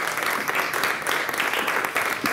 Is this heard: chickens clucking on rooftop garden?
no